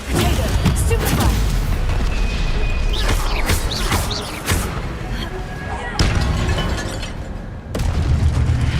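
Spell blasts in the video game Hogwarts Legacy land as loud booming explosions and crashing impacts in rapid succession, with a few brief gaps and bright magical whooshes over heavy low rumble, with voices shouting spell names over the din.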